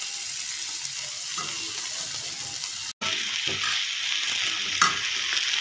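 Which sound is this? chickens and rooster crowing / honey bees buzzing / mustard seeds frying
mustard seeds frying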